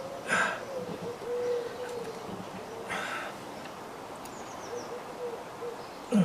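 A pigeon coos in soft, low, repeated calls at a moderate distance outdoors, set against steady background hiss with a few faint higher chirps.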